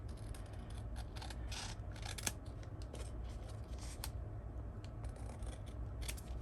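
Scissors snip through a paper bag while trimming a handmade journal, a few faint, soft cuts over a steady low background hum, with no voices.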